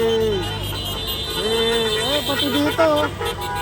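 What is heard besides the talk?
car horns honking repeatedly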